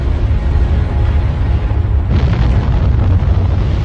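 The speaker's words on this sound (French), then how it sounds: "Les grosses explosions volcaniques sont dévastatrices." A large volcanic explosion during an eruption on Montserrat in the Caribbean roars as a loud, continuous rumble, swelling with a fresh burst of force partway through.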